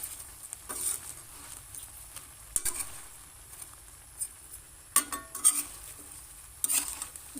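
Shrimp adobo seasoned with soy sauce is stirred in a pan, giving scattered scraping and clattering strokes over a faint, steady sizzle, with no talking.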